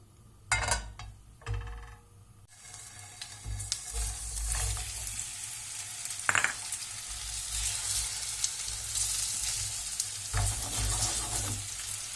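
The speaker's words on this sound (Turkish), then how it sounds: "Patateslerimizi, köftelerimizi bu yağda biraz kızartıyoruz." Potatoes and meatballs sizzle and crackle steadily in hot oil in a pot, with a few louder clatters and stirring sounds at the start.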